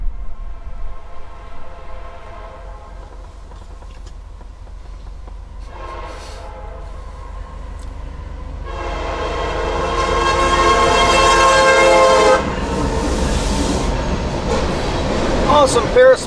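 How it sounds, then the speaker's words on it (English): Two CSX freight trains meet and rumble past in opposite directions on elevated tracks, with rolling wheel noise that builds, and a loud train horn sounds in several long blasts. "The train closest to the camera was the CSX Q010 heading east."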